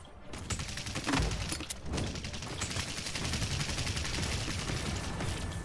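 Rapid bursts of gunfire in the video game Fortnite ring out under sniper fire, dense and continuous with sharp cracks layered over one another for several seconds, moderately loud and without talk.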